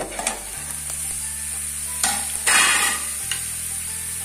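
Bitter gourd frying in a pan for a Telugu onion-spice fry, a steady bright sizzle close up, with a few spoon scrapes and stirs breaking through, no voices.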